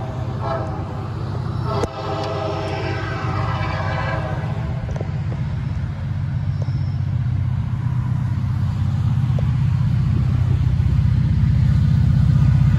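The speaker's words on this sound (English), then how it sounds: "to catch our grain train once more, with that SD70 Mac giving us a hell of a show" A CSX grain train hauled by an EMD SD70MAC locomotive near Winder, Georgia, rumbles steadily and loudly throughout, with a horn blast early on and the heavy engine drone building toward the end.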